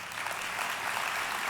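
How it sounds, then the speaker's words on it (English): Brief burst of audience applause at an ABSL business-association event, a dense, even wash of clapping lasting under two seconds. "Big round of applause."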